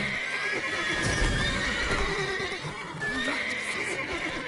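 Horses whinny and neigh in the video game The Witcher 3 amid clip-clopping hooves and a steady background hum, with the sounds layered and fairly close throughout.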